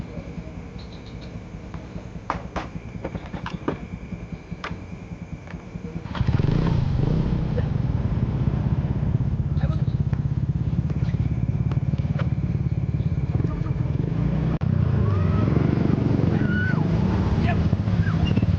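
A motorcycle rides along, its engine rumble steady and loud, swelling sharply about a third of the way in and then holding with wind-like roar; scattered clicks and faint voices sit underneath.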